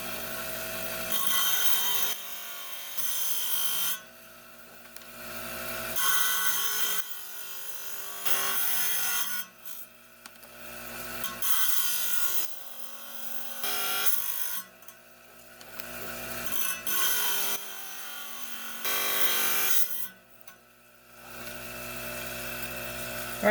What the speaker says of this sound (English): Going to cut it close to the lines and move on to the next step.